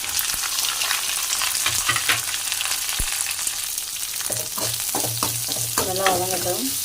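Chopped onion and crushed garlic sauté in a hot tempering of cumin, fenugreek and popped mustard seeds for idli sambar, a steady close sizzle with scattered spatula scrapes and stirring knocks, no voices.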